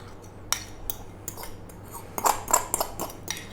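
Salad tossed with lemony mayo in a bowl, giving a handful of light clinks and scrapes of a utensil against the bowl, close and fairly quiet, with no talking.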